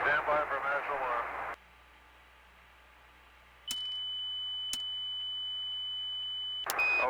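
Master alarm aboard the Apollo 13 lunar module: a steady high tone sounds for about three seconds, cut by sharp clicks, following a burst of radio-crackled voice and a silent gap.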